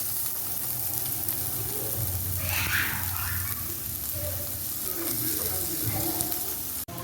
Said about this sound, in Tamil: பொடியாக நறுக்கிய பூண்டு அதில் சேர்த்துக்குவோம்.